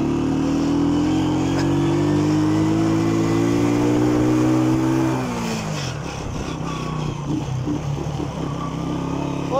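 A warmed-up motorcycle engine idles steadily up close, then its pitch drops and it settles into a rougher, lower running sound. No voices are heard.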